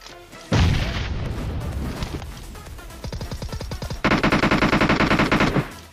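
Battle in BGMI erupts with a heavy grenade blast, then stuttering bursts of automatic rifle fire, fast rhythmic shots close and loud, ending in a long sustained burst before cutting off.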